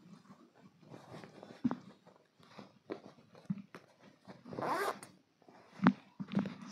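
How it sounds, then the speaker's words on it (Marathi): Zipper on a fabric pillow cover being pulled open and shut, a few rasping zips of varying length with small rustles between them, close and soft. "या पिलो कवरला आपण झिप दिलेली आहे"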